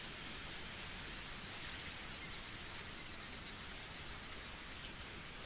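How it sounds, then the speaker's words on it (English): Steady, dense torrential rain pours down without pause, a loud uniform hiss of heavy drops hammering surfaces, with no voices or other sounds breaking through. "Even in this torrential downpour"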